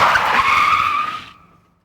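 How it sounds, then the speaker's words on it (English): An old Ford doing a burnout, its tires skidding and squealing loudly and close for over a second before the noise dies away abruptly. "And it will do a burnout."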